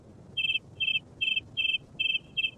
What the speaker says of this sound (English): he chirped the most beautiful sound that she had ever heard